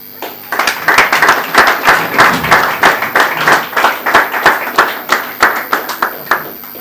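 An audience applauds at the inauguration of a medical centre in Kinshasa, a sustained burst of many hands clapping that settles into a loose, rhythmic group clap, fairly close and loud, with no talk over it.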